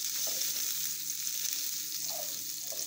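Steady, soft sizzling of butter melting in a frying pan for pelmeni, a continuous hiss with faint crackles, no voices.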